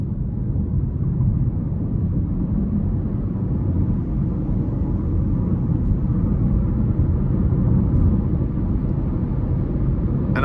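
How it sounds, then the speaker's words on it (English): A 2024 Buick Envista Preferred with a 1.2-litre turbo engine and six-speed automatic gives a steady low rumble of engine and road noise from inside the cabin as it pulls under light throttle, with no talk. "So we'll give it a little throttle here."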